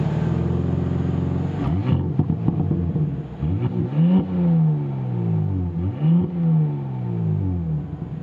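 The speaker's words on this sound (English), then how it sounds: "one thing that Audi does really well is the sound of their sports cars" A 2025 Audi S5 Prestige engine revs through its quad exhaust, settling from a steady burble into a low rumble, then rising and falling in two strong, close revs.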